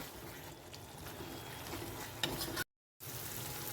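Soybean dal mixture stir-frying on a high flame, a steady close sizzle with scraping stir sounds and a brief louder burst, then a short gap of silence before the frying resumes.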